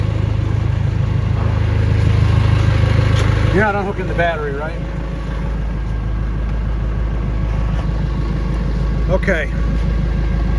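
Car engine idling with steady exhaust rumble nearby, continuing under a brief exchange between people talking.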